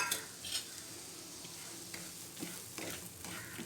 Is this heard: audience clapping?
no